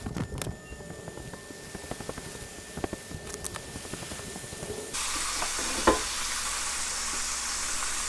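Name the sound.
red snapper pieces frying in a pan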